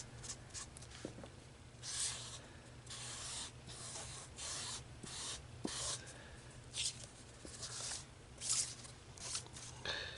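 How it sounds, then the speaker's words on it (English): A jumbo marker's broad end is dragged across white paper in repeated rubbing, squeaky strokes at close range, each swipe a short burst with brief pauses between. "take a jumbo marker like this one, and what you're going to do is take the big end and just go across"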